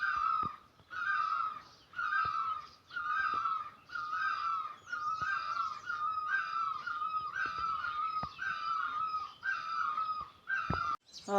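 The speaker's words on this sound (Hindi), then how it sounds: "चिड़ियों की आवाज़ देखो दोस्तों।" Birds call over and over outdoors beside a field in a hill village, loud and close, in a steady run of repeated harsh cawing bursts with brief gaps between them and no one talking.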